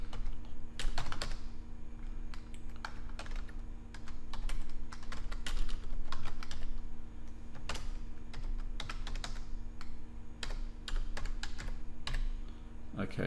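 Rapid clicking keystrokes on a computer keyboard while a password is entered, a dense, irregular stream of close taps lasting over ten seconds with a faint steady hum underneath and no talk.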